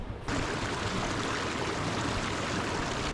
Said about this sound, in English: pumping water, my favorite